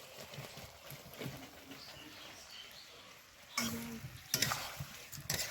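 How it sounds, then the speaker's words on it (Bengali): Soft stirring and scraping with a low sizzle as fried vegetables are stir-fried in spices for veg biryani, growing louder and busier in the last two seconds with sharp clinks of a utensil against the pan. "ভাজা সবজি দিয়ে দিব কষা মশলায়"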